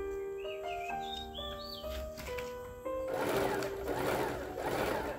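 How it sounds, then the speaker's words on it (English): A sewing machine sews straight stitches over zigzag stitches along the side seams of a tea-length floral dress. Soft chirping tones play at first, then the machine's close, steady whirring hum comes in and runs to the end. "sew straight stitches on top of the zigzag stitches"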